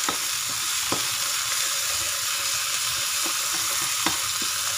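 Onion, tomato and ginger sauté in a hot pan for chicken with bitter gourd, giving a steady broadband sizzle with a few soft stirring knocks, close and continuous with no talk.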